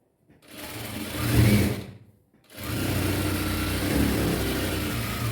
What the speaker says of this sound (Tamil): இப்போ இதுக்கு மேலே ஒரே ஒரு ஸ்டிச், அவ்வளோதான்